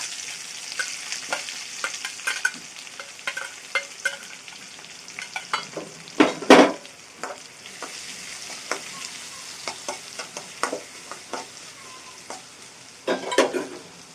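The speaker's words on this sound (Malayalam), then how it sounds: "ഇനി നമ്മൾ ചതച്ച മുളക് ഇട്ട് കൊടുക്കുകയാണ് മുളക് ചതച്ചെടുത്തതാണ് അതോടൊപ്പം തന്നെ നമ്മൾ പിന്നെ കൊച്ചുള്ളി വെളുത്തുള്ളിയും കൂടെ ചതച്ച് വെച്ചിരിക്കുകയാണ്" Crushed chili, shallots and garlic sizzle and spit in hot oil, a close, steady frying crackle broken by sharp pops and scraping stirs, with louder bursts around the middle and near the end.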